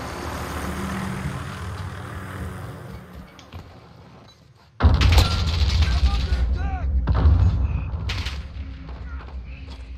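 Gunfire in Call of Duty Modern Warfare during a hardcore team deathmatch, a sharp close report followed by loud rumbling bursts and further shots over several seconds, with a voice talking under the din.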